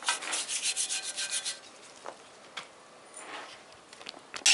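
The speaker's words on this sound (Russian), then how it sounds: "Щеткой мы обрабатываем." A brush scrubs caked dirt off the timing chain cover of a 2-litre Ford Mondeo, with rapid rhythmic rubbing strokes close up, followed by quieter scattered scrapes and taps.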